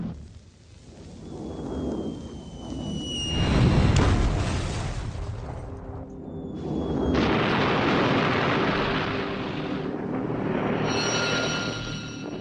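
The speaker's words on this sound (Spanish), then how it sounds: "El zumbido estridente de los aviones y las explosiones colosales siembran el pánico" Deep, heavy booms of bombs dropped from aircraft in World War II roll out one after another, with rumbling blasts swelling and fading over a faint whine of planes overhead.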